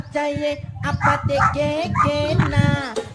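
Dog barking and whimpering in repeated yips and bow-wows, loud and close, mixed with people talking over it throughout.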